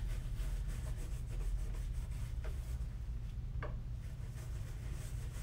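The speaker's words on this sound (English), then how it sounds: "we are going to polish it because this is a luxury shine." A cloth or brush rubs steadily over a dyed black full-grain leather shoe during a luxury polish, giving a continuous soft scrubbing swish up close with a couple of brief sharper strokes and no talking.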